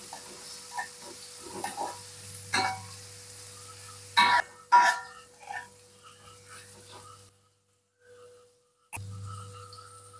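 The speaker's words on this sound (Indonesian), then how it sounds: "Di sini saya masukin buncis dan wortelnya. Dan jangan lupa untuk diaduk-aduk rata kembali ya." Green beans and carrots stirred with sliced sausage frying in a pan, steady sizzling under a few scraping utensil strokes, close up, dropping briefly to near silence before the sizzle returns.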